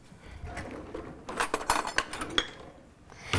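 A spoon clinks and scrapes against a pot of fresh tomato sauce with basil, giving a cluster of quick metallic taps and rattles over a faint kitchen background.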